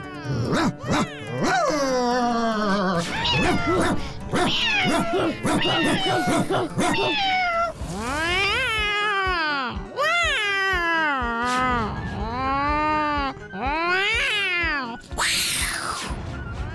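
Animated cartoon cats yowl and meow in long, wavering, angry cries, with dogs barking and yipping among them in a noisy, continuous squabble.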